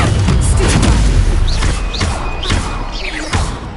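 A Stupefy spell lands in Hogwarts Legacy with deep booming thuds and crashes. Sharp magical chirps and zips sit on top, and the impacts run loud and dense throughout.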